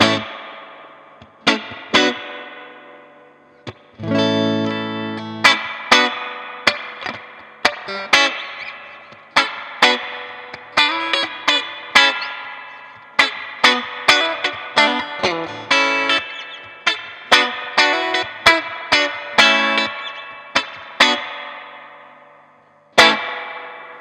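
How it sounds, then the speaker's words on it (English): Electric guitar notes and strummed chords through a Juketone Rival Son amp ring out one after another, each trailing off into a long, washy reverb tail. "a hell of a lot of reverb"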